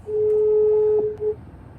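A phone places a call for Hyundai roadside assistance after a Verna breaks down: one steady electronic tone holds for just over a second, close and clear, then stops, with no talking.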